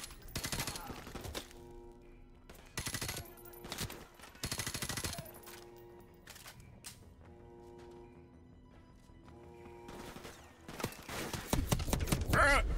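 Bursts of gunfire in Call of Duty: Modern Warfare, several separate volleys of rapid shots with quiet gaps between them, ending in a louder cluster near the end.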